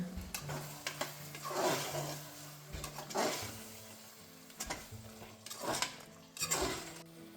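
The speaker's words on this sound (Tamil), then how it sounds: "இப்போது 50 ml தயிர் ஆட் பண்ணி நல்லா கிளறி விட்டுக்கோங்க" Spoon scraping and clattering against a pressure cooker while yogurt is stirred into Ambur chicken biryani, irregular metallic stirring bursts with soft sizzling beneath, close and moderately quiet.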